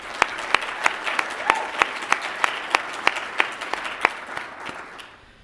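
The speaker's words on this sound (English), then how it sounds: "Please join me in another round of applause for Dylan." Audience at a student employee of the year ceremony applauding for an honoree, with a crowd's clapping under sharp, regular louder claps from one nearby pair of hands, fading out at the end.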